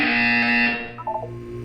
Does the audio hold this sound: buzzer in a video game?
yes